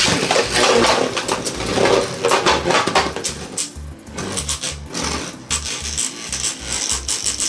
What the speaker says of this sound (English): It's like rubber against rubber.